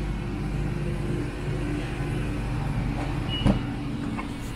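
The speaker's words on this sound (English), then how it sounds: "and the car is now running" Car engine idling after a Viper remote start inside a shop: a steady low hum with faint background noise and a small click near the end, no talk.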